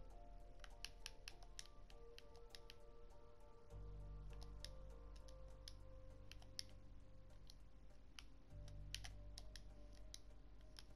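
Typing on a computer keyboard, with steady, quiet, close-up key clicks in an uneven rhythm over a low background hum.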